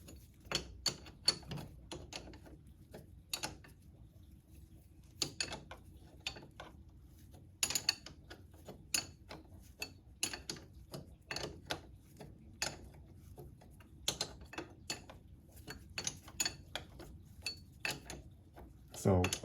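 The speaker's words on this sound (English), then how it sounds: "So I'm doing it a little more difficult with just this wrench instead of a socket" A wrench works the top bolt on the front fork of a 2004-2007 Honda CBR1000RR, giving close, irregular metallic clicks and clanks in quick bursts with short pauses between them.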